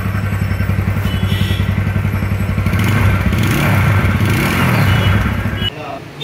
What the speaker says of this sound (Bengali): ইঞ্জিনের সাউন্ড খুবই ভালো আছে, একদম স্মুথ